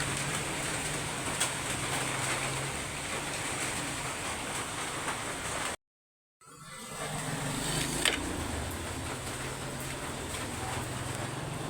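Rain falls steadily outdoors, making a soft, even hiss with no other sounds. The sound cuts out for a moment partway through, then the rain noise resumes.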